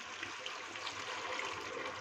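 A glass of water is poured into a pan of quail in wine sauce, giving a steady soft gush and trickle that runs faint and even for about two seconds with no talk.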